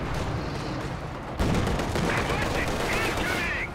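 Rapid gunfire bursts from infantry in Company of Heroes 2, a World War II strategy game with Soviet and British forces fighting Wehrmacht grenadiers, crackle continuously at mid distance over a constant battle din that grows louder partway through.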